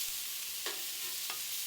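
Meatballs cook in a pan with a steady, hissing sizzle throughout. Two short scraping stirs cut in over the frying. No voices.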